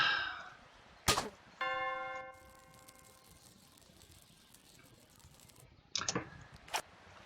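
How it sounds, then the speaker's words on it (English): Harpoon striking a bell in Tomb Raider 4, a sharp metallic impact followed by a clear ringing tone that decays over about two seconds, with other brief clanks later. "I need to use it on this bell."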